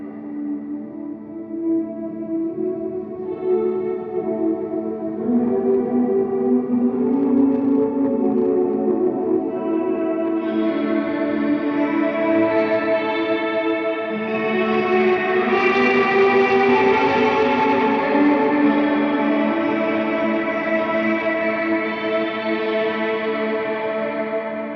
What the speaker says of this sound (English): I'll use it with the tone rolled off on my guitar for a pad sound